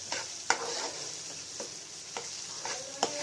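A tomato and onion mixture sizzles steadily in a pan at close range, with a spoon stirring and tapping against the pan at several irregular moments. No one talks.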